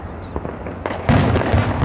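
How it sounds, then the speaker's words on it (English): Fourth of July fireworks in Bellingham, Washington go off close by, a few sharp pops followed by a loud burst of crackling blasts that fill the last second. "The second rule is, shoot off fireworks."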